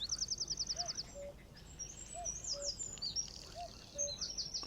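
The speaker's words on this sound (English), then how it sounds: "that cuckoo thinks it's well funny" A cuckoo calls its low two-note song several times over at Elmley Nature Reserve, faint and distant, while other birds trill and chirp more brightly nearby in the open countryside.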